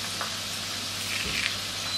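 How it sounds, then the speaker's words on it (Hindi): Okra (bhindi) frying in hot oil gives a steady, dense sizzle, close and moderately loud, with no voices over it. "बाकी के भी जो भिंडी इसी तरह हम फ्राई करेंगे"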